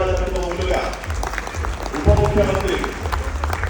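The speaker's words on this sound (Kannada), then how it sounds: "ಎಲ್ಲ ಜೋರಾಗಿ ಒಂದು ಚಪ್ಪಾಳೆ ತಟ್ಟುವ ಮೂಲಕ" An audience claps at the Bengaluru Ratna Award 2024 ceremony, steady crowd applause running throughout while a voice speaks over it.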